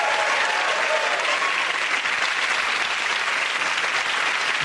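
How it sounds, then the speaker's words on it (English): A television comedy panel show studio audience claps loudly and continuously, a dense, even roar of applause with crowd murmur underneath. "Give a round of applause."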